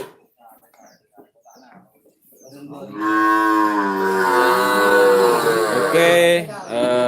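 A cow in a cattle pen lets out one long, loud, deep moo lasting several seconds, close by, after a stretch of quiet murmuring and faint whispery voices.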